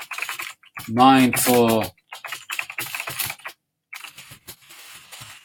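Fast, uneven clatter of typing on a computer keyboard, close up, in short runs broken by brief pauses; someone speaks briefly over the keys near the start.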